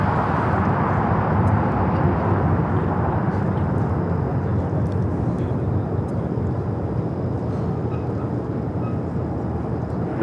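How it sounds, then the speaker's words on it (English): A United Airlines 787-9 Dreamliner taking off at an airport, with a sustained loud, broad engine roar heard from a moderate distance and no speech. "That is United Airlines Flight 32 taking off to Tokyo Narita on the"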